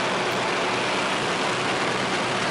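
Westland Lysander aircraft engine in flight, a loud, steady, dense propeller-engine roar that fills the whole span without pause, heard from inside the cockpit with no voices.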